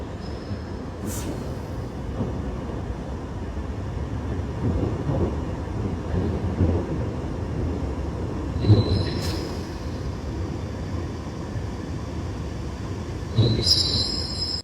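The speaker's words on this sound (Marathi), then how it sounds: "ही ट्यूब येते बघा समोर." A London Underground tube train rumbles into a station and slows, its wheels squealing in high-pitched bursts against the rails, with a steady low roar underneath.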